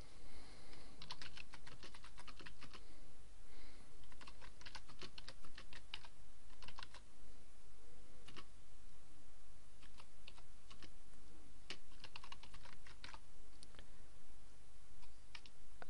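Steady, close typing on a computer keyboard, a quick irregular stream of soft key clicks over a faint background hiss, without any talking.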